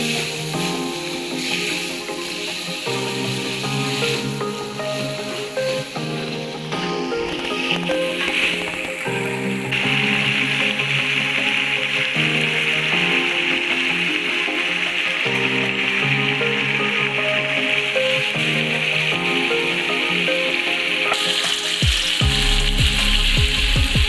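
Chicken pieces being stirred with spice paste in a hot pan for Indonesian opor ayam, giving a steady close sizzle and frying crackle with occasional scraping and clinking from the stirring, continuous throughout with no talking.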